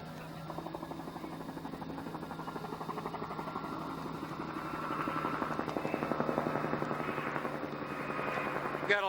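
Tourist sightseeing helicopters fly overhead with a steady rhythmic rotor chop and engine drone, swelling louder midway as one passes nearer.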